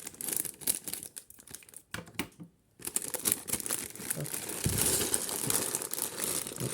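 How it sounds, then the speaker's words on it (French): A small plastic Lego parts bag is crinkled and snipped open with small scissors, giving close, steady rustling and crackling with a brief quiet pause partway through. "on prend évidemment les petits ciseaux pour pouvoir ouvrir le petit sachet"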